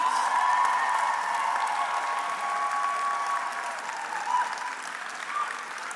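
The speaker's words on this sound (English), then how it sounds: "could you please give a warm round of applause for your support network in the audience." Sustained applause from an audience at a 2023 convocation ceremony in the Durham Greater Toronto Area, steady and full for the whole stretch, with a brief swell near the end and a faint murmur of crowd noise underneath.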